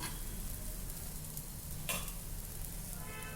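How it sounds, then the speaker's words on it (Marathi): Sprouted moong and matki dosa roasting on its second side on a hot pan, giving a steady close sizzle with one brief scraping sound partway through. "आता तो पण छान असा आपल्याला भाजून घ्यायचा आहे दुसऱ्या साईडनी"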